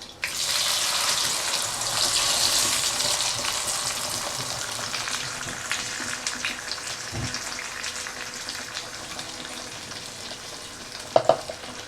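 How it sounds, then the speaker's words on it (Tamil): Ground wet masala tipped into a hot pan for a vegetarian soy fish sambal, frying with a loud, steady sizzle that slowly eases, followed by a couple of sharp clinks near the end. "இப்போ நான் இந்த அரைச்ச மசாலா நான் இதில் ஊற்ற போகிறேன்."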